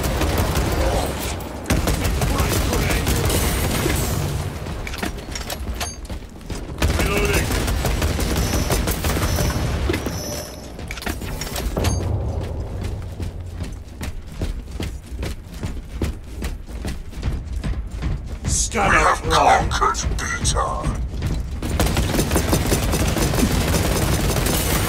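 Sustained gunfire and explosions in Warhammer 40,000: Space Marine 2 combat, dense continuous shooting with rapid bursts, heavy thuds and a busy rattling stretch near the end.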